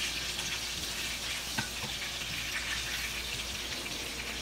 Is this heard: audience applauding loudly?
no